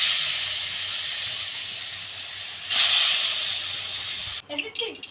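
Banana flower croquettes sizzle in hot oil in a pan, a steady loud hiss that flares briefly midway before cutting off near the end.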